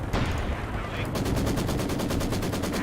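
Enemy gunfire in a video game: a dense, loud burst of rapid automatic shots with a fast, evenly pulsing rhythm that continues to the end.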